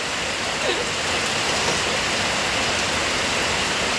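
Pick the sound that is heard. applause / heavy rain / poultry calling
heavy rain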